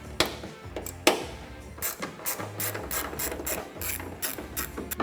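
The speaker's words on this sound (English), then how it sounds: "the only tool you're going to need is an 8mm socket, and that's to remove these two screws on the inside of your bed" Close, dry clicking of an 8mm socket ratchet backing out screws on a Jeep Gladiator taillight from inside the bed, with repeated bursts of rapid pawl ticks and sharp taps and no talking.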